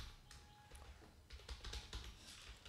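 Faint typing of code on a computer keyboard, a quick run of soft key clicks in the second half, over a low background hum.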